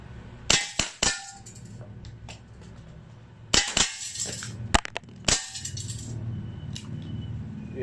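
A Tokyo Marui MTR16 Gold airsoft rifle fires on full auto with 0.32 g BBs. Loud, sharp snapping shots come in several short bursts separated by brief pauses, close and clear.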